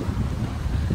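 Strong wind on a Canary Islands street on Lanzarote buffets the microphone in a continuous low roar with gusty rumbling, and no voices are heard.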